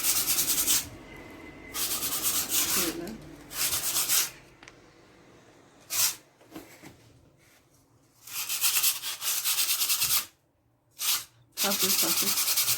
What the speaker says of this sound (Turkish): Kuruyan yerleri zımparalıyor.